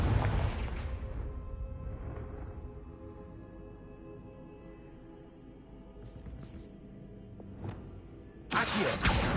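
Blasting explosions from the Confringo spell in Hogwarts Legacy: a heavy boom at the start, then scattered sharp bursts over a quiet droning game ambience, ending with a loud, sustained crackling blast.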